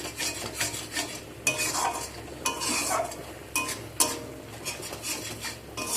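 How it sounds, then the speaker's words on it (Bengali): Spices being sautéed in a pan for a Bengali pabda fish curry with black cumin, heard as steady stirring and scraping with a soft sizzle underneath and several sharper utensil knocks against the pan. "সব কিছুকে আমি এখানে ভালো করে কষিয়ে নিচ্ছি।"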